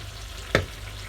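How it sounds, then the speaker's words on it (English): A single quick scrape and sizzle sounds as fried rice with its mixed ingredients is stirred in a hot pan, close up, over a quiet steady background with no talking. "As you can see, we are mixing them all together, all our rice and ingredients."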